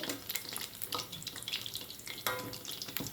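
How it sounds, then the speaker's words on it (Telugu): Cowpea (karamani) vadas frying in hot oil, a steady close crackling sizzle with bursts of bubbling and popping throughout, no voices. "ఇది వేగుతుంది మంచి క్రిస్పీగా ఉంటాయండి"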